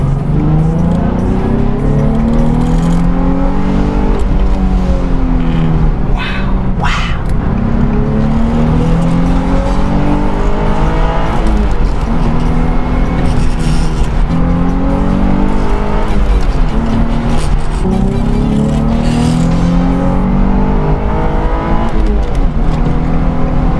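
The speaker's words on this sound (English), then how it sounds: "you can now start off and do some little squeals" A Nissan 350Z, fitted with a new clutch after a burnt one, repeatedly revs and launches, its engine rising in loud sweeps with short tire squeals as it starts off.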